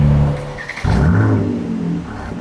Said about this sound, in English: Pretty standard kind of petrol startup on that